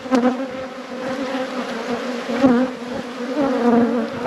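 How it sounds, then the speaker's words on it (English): Dense, steady buzzing of many honey bees fills the air close up, a continuous droning hum with no voices. "Lots and lots of bees."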